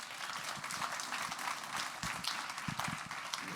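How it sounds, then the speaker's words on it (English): An audience at a tech talk on becoming AI first gives faint, steady applause after the presentation, a soft crackling patter of many hands with a few sharper claps standing out. "sorry, please, applause"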